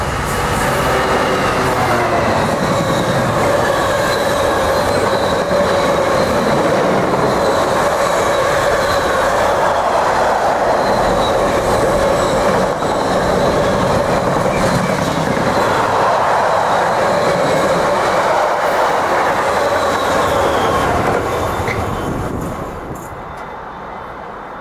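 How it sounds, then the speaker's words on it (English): A Class 66 locomotive hauls a Freightliner freight train through a station platform on the Great Eastern lines. It makes a loud, sustained roar of engine and wagons with rolling wheel clatter and some squeal, then tails off at the end. "Thrashing through platform 1 is a Freightliner service taken by a class 66."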